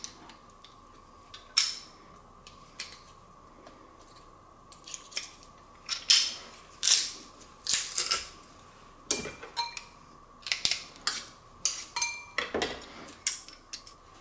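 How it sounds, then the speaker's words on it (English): Garlic cloves are crushed in the kitchen, producing a series of sharp metallic clicks and crunchy snaps at irregular intervals, close and fairly clear with no talking. "Now let's crush or mince our garlic cloves, in this case I'm crushing them"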